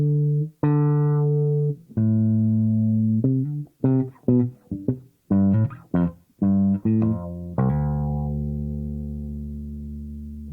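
Bass guitar played through a 3 Leaf Audio Proton v3 envelope filter pedal, a string of plucked notes with shifting filtered tone, loud and alone, ending on a long sustained low note.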